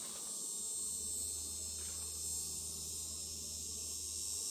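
Honeybees hum at an open hive while a beekeeper checks Hive 4 before adding a super, giving a faint, steady drone throughout with no voices.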